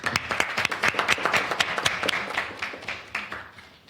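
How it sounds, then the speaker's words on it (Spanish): Audience applause for panelists at a forum on Paralympic sport and disability rights: a moderate crowd claps in a busy, uneven patter that gradually softens and thins toward the end. "Creo que podemos dar un saludo y un aplauso para todos nuestros panelistas."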